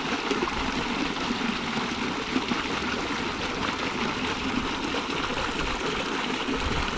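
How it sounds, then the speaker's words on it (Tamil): Water pours and splashes steadily from a pipe into a flooded paddy field, a continuous rushing gush at close range with no voices. "பைப் வழியாக தண்ணி போயிட்டு இப்போ பாயுது"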